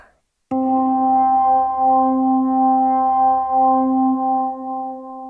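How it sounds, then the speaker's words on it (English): Slow organ voice on a Cantorum Duo keyboard with a Hammond-like tone: a single sustained chord enters sharply after a brief silence and holds steadily with a gentle, slow wavering, loud and clear with no talk. "Sounds like a Hammond organ of sorts."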